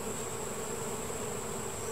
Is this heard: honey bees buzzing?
yes